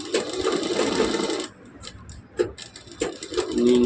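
A sewing machine stitches cloth in a steady close whirring run, then stops into softer ticking and clicks before picking up again.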